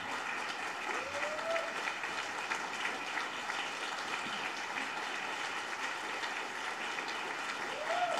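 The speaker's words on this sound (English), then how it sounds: "A round of applause, a sustained round of applause" An audience applauds to welcome Reverend Barber at the Frederick Douglass Unity House, a sustained, even wash of clapping that runs for about eight seconds, with faint voices rising briefly within the crowd.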